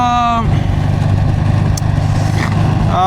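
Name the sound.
motorcycle engine revving as throttle is pulled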